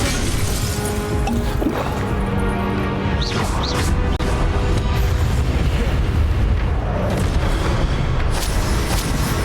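Fire spell effects in the Hogwarts Legacy video game, with repeated loud booming bursts and crackling impacts layered over continuous dense game sound and music, no talking.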